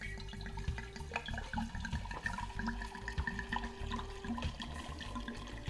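Wine pours steadily and gurgles into a container close by, a continuous splashing flow with no talking.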